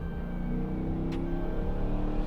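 Cammed 2014 Dodge Charger with a 5.7L Hemi rolling into the throttle, a deep rumbling V8 drone that holds steady and loud, with a brief whooshing swell midway.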